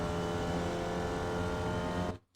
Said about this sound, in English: back on the gas nice and early in third gear